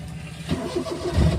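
A car engine cranks and catches, rising into a low mechanical rumble over a second and a half, close by and fairly loud, with no talking.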